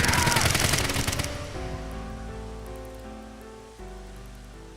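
A dense burst of gunfire opens at close range after an order to open fire in Saturday Somnium, loud and crackling for about a second, then giving way to sustained tonal music.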